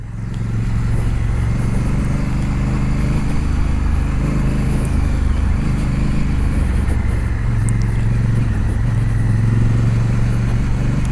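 A Honda Africa Twin motorcycle's engine drones steadily, close and loud, as it rides over a rough, bad road, with occasional rattles and bumps over the continuous motor sound.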